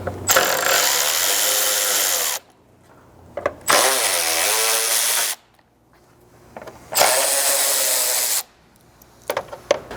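Power tool backing out Torx head screws on a ZR2 Colorado front bumper, three loud sustained whirring bursts of about two seconds each, separated by short quiet gaps with faint clicks.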